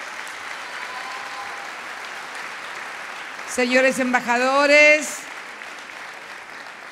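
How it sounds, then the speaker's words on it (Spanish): Applause for electoral authorities fills a formal ceremony marking the centenary of Argentina's Sáenz Peña electoral law, a broad steady wash of clapping across the hall, then a voice speaks briefly over it near the end. "también vaya un aplauso para las autoridades electorales"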